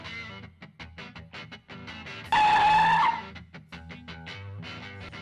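A car skids to a stop with a loud tire screech of nearly a second that cuts through rapid, soft rhythmic sounds before and after.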